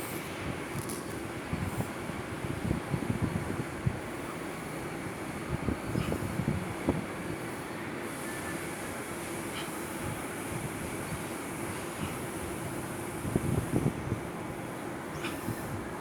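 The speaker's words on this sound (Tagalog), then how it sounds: "Minsan pabugso-bugso yung hangin mga gawiks." Gusty outdoor wind while flying a homemade kite buffets the microphone in a steady low roar, with rougher rumbling surges coming and going over about sixteen seconds and no one speaking.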